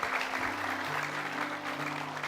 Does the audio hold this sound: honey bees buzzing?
no